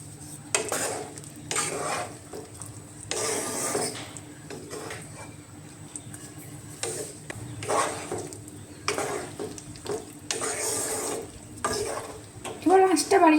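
Poppy seeds (posto) frying in a pan over low heat for aloo posto, with repeated bursts of scraping and stirring against the pan over a soft sizzle.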